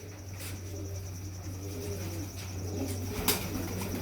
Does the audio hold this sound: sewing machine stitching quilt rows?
no